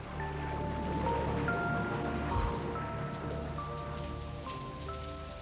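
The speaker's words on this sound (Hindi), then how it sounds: "माय गॉड, ये बरसात।" Heavy rain pours down in a steady, dense hiss of drops pattering on surfaces, continuous and fairly close, with no voices over it.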